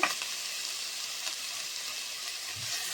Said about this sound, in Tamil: இப்போ நம்ம பிளான்ச் பண்ணி வச்சுருக்க வெஜிடபிள்ஸ், நம்மக்கிட்ட இருக்கிற வெஜிடபிள்ஸை இப்போ சேர்த்துக்கலாம். இப்போ இதை நல்லா வதக்கிக்கலாங்க.